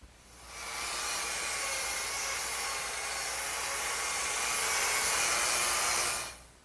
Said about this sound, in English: scrape off this excess glue and